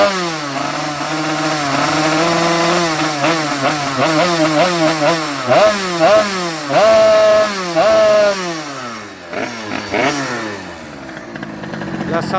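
A Rieju MRT 50 motorbike with a 30mm carburettor revs loudly while standing still, its engine pitch climbing and falling in repeated sharp bursts and long sweeps, close and continuous throughout.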